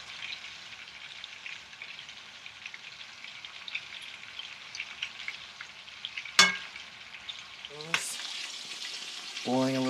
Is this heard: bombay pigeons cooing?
no